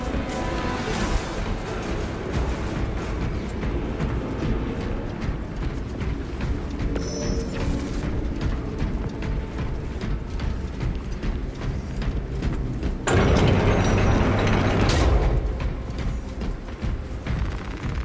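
A mechanical platform in a video game grinds and clatters along with rapid irregular knocks and rattles, steady throughout and getting louder and rougher near the end.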